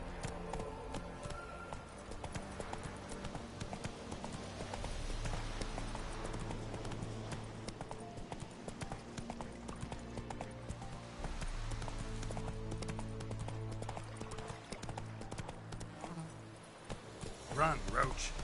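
Roach, the horse in The Witcher 3 video game, runs with a steady, fast clip-clop of hooves under a continuous layer of game music and ambience, with a voice speaking briefly.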